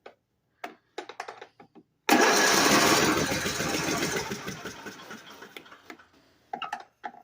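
An engine cranks over after being hydro locked with a leaky carburetor, then fires and runs loudly for several seconds before settling, with scattered clicks and knocks before and after.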